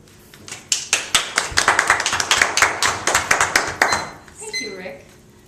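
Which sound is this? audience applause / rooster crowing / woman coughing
audience applause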